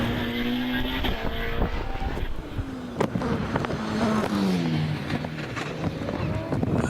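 An OMS 28 hillclimb car with a 2.7 litre RPE V8 at a British championship hillclimb at Harewood, its engine revving and shifting through rising and falling pitches at a distance, steady and loud, with wind noise over the microphone.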